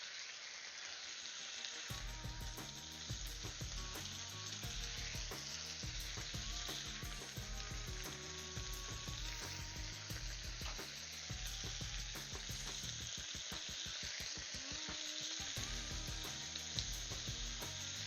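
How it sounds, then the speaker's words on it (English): Onions and bok choy sauté in a pan with a steady, loud sizzle and frequent stirring scrapes and clatters throughout; no one speaks. "Even just onions and bok choy sauteed together smell wonderful."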